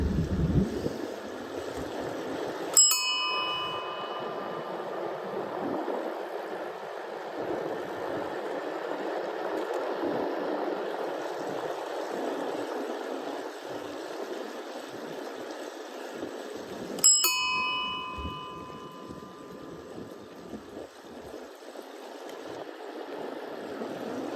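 A Dutch ding-dong bicycle bell, bought in Amsterdam, rings twice far apart, each a bright metallic ding over steady wind and rolling noise on a bike ride through Cades Cove in the Great Smoky Mountains.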